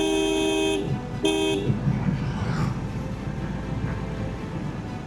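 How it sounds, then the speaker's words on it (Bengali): A motorcycle horn blares twice in quick succession near a mosque, loud and close, followed by rumbling road traffic with the motorbike's engine running underneath. "তাও তো আমি হর্ন বাজাই দিলাম"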